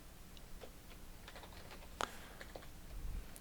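Faint, close clicks of computer keyboard typing while entering code, scattered irregular keystrokes with one sharper clack midway, no speech.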